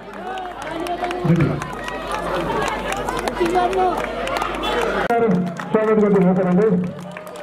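Audience applause and cheering honour a young boy at a prize-giving ceremony in Syangja, a dense crowd clapping steadily throughout while an announcer keeps talking over it through a loudspeaker.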